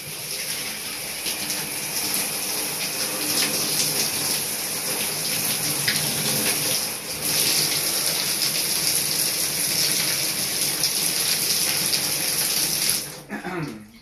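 Cold water runs from a tap in a steady, loud, hissing stream for about thirteen seconds, then cuts off abruptly near the end.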